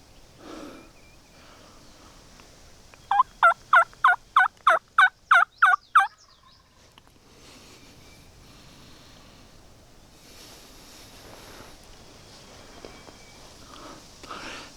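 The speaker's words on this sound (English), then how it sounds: "So that bird gobbled again and he's closer." A wild turkey gobbles in the spring woods, a rapid series of about ten sharp, rattling notes standing out clearly over a quiet outdoor background, followed by faint rustling.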